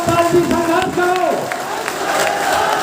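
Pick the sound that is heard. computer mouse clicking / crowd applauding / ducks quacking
crowd applauding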